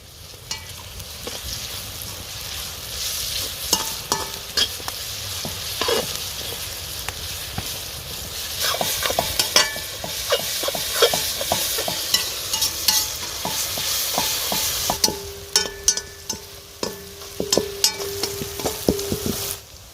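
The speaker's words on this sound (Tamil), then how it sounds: "வெங்காயம் வதங்கிருச்சு." Onions sautéing with salt in a pan, a continuous sizzle broken by frequent scraping and clinking of a spoon stirring against the pan, loud and close, with no talking.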